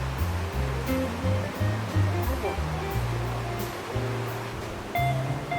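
Iron-rich hot spring water, staining its surroundings reddish-brown, flows beneath Kajika Bridge at Ikaho, making a continuous rushing wash that stays steady throughout, with a few faint, brief tones over it.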